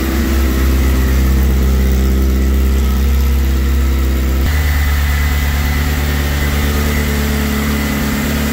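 A Suzuki GSXR600 motorcycle engine idles steadily and loud at close range while its cooling fan runs, a constant drone and whir with a slight change in tone partway through and no speech.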